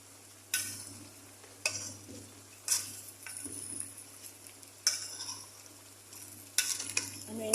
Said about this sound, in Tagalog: Haluin natin dahan-dahan kasi para po yung lasa